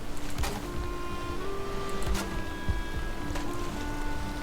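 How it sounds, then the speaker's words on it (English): Ocean waves lap against a dock in the video game Valheim, a steady wash of surf with a few soft splashes and a low tonal hum running beneath, no talk. "Some of the waves are coming up and they're not washing over the top of the dock"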